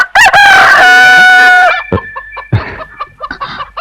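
A rooster kept by the neighbours downstairs gives one loud, close crow of about a second and a half, then a few scattered clucks and short calls follow.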